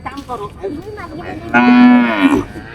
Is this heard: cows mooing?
yes